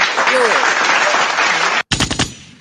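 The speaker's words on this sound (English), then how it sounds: "I've been hitting the gunshot button, the applause buttons" A burst of rapid, loud gunfire sound effect rattles off after a roaring wash of noise resembling applause, cutting abruptly before the shots.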